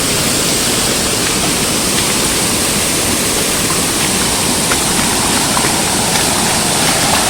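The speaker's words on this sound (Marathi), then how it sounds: "हा धबधबा बघा फुल असा वाहत असतो" A waterfall near a Rameshwar temple in Kankavli, Konkan, roars in a loud, dense, unbroken rush of falling water, close and constant with no voices.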